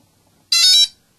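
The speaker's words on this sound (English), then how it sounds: "Once you hear all four of them have done their initialization beeps" An SK450 quadcopter's four electronic speed controllers sound one short, bright electronic initialization beep, loud and alone against near silence.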